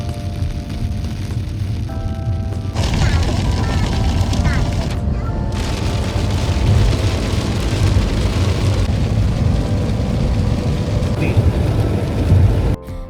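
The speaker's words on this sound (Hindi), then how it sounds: "काफ़ी लंबे टाइम तक ये बारिश कंटिन्यू थी, वो भी बहुत ज़्यादा तेज़" Heavy rain pours steadily and loudly, a dense roar of drops hammering surfaces nearby, continuing without a break for the whole stretch.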